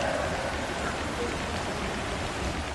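Heavy night-time rain pours down in the Duruoğlu township of Giresun, a dense, steady hiss of drops on surfaces, loud and unbroken throughout.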